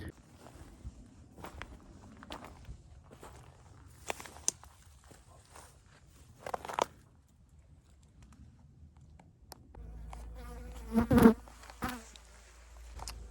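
Honey bees buzz around beehives on a mild late-winter day in a treatment-free apiary, with faint scattered buzzing and soft footsteps, then a louder, closer buzz swelling near the end.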